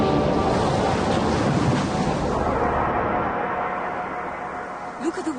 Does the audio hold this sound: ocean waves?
yes